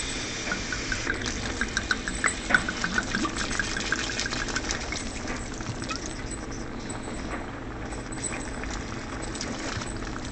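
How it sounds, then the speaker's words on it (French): Red wine poured into a simmering homemade spaghetti sauce, a steady bubbling, liquid wash with small splashy clicks, close and moderately loud throughout, no talking. "pour diluer tout ça, pour éclaircir tout ça, on va ajouter notre vin rouge"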